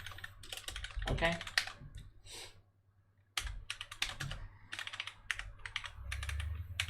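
Rapid bursts of keystrokes on a computer keyboard while code is written, clattering in uneven clusters with a short pause midway, close and fairly clear, with brief speech mixed in.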